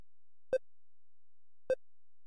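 Two short, clean electronic beeps from the Google Chrome offline dinosaur game, spaced about a second apart and standing alone against silence.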